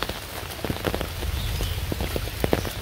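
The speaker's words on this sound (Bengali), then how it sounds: "বৃষ্টি হইতেই আছে" Steady rain patters on a surface, with scattered louder drops tapping throughout and no voices.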